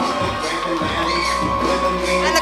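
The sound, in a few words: wrestling crowd cheering and giving an ovation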